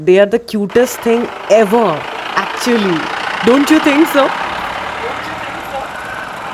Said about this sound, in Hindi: ये ट्रैक्टर की आवाज़ है जो कि हमारे बगल से ही गुजर रहा था।